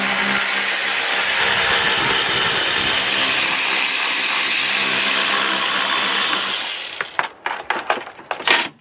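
A power tool spins out 16mm bolts from an aluminium sump guard beneath a BMW, a loud continuous whirring run for about seven seconds that breaks into short clattering bursts and clicks at the end.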